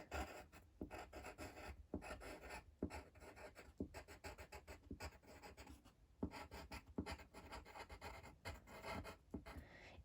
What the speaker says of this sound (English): I'm going to start to write some sentences about Pyjama Land